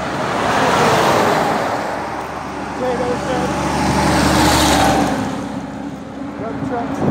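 Highway traffic on I-90 past farmland, with semi trucks, trailers and cars streaming by in a loud, continuous roadway roar that swells and fades as vehicles pass, with wind noise and someone talking over it.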